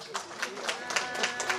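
Applause for a bidder at a charity auction of a T-shirt and vouchers, a crowd clapping steadily at moderate distance for a second and a half, with brief voice fragments in the mix.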